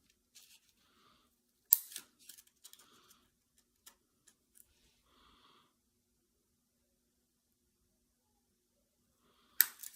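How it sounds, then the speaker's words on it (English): Scissors make a few faint, scattered snips and clicks with long quiet gaps between them, and one sharper cut at the end. "My scissors aren't working today"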